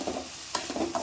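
Grated coconut, a little tamarind and drumstick leaves sauté in a pan for chutney, a soft continuous sizzle broken by a few scraping stirs close up.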